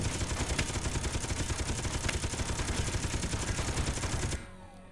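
Rapid automatic gunfire in Space Engineers pours onto large ship blocks as a dense, continuous rattle, loud and steady for several seconds before cutting off abruptly into quiet.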